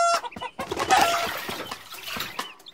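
Chicken clucking in a farming video game, a run of busy, fairly close clucks and squawks with no talk over them.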